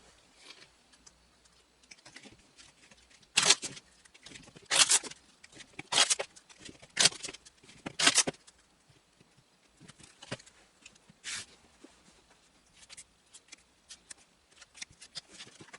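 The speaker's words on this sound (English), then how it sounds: "I'm going to go ahead and shuffle the cards" A deck of oracle cards is shuffled by hand in several short, crisp riffling bursts separated by quiet pauses, close and dry, with no talking.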